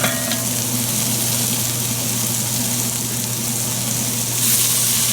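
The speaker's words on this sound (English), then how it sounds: "at this point we'll add the garlic." Garlic goes into a pot of softened vegetables for a keto goat stew and sizzles loudly and steadily up close, a continuous dense crackle that swells slightly toward the end.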